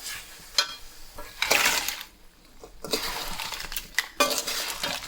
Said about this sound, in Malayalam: ഇനി നമുക്ക് ഇതിലേക്ക് ഞണ്ടിടാം.